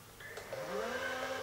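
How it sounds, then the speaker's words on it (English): An Epson P700/P900 photo printer feeds paper out through its front path with a quiet, steady mechanical whir whose pitch slowly rises and holds. "the final feed that throws the paper out here is those pinwheels which have been lifted up out of the way"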